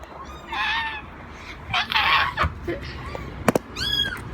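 A newly adopted kitten gives several short, high meows, spaced apart and fairly close, with a soft human voice speaking quietly between them in a small indoor room.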